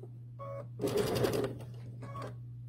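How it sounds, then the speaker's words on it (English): A sewing machine stitching a little at a time around a curve, with a short whirring run between quieter pauses and a faint steady hum underneath, heard close and with no talking. "So we're going to sew a little at a time all the way around the curve."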